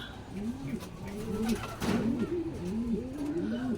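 Racing pigeons coo in repeated soft, throaty phrases nearby at a pigeon derby race, one call following another at an even pace.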